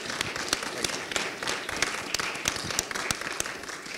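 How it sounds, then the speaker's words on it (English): Audience applause in a conference hall at a conservative political gathering, a moderate round of many hands clapping with distinct individual claps popping out, fairly soft and continuous. "well-deserved round of applause"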